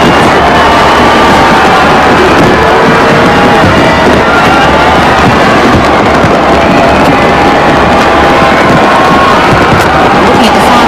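Fireworks over the Brisbane River at South Bank for the 2000 millennium celebration crackle and pop continuously amid a large crowd murmuring and cheering, dense and loud throughout.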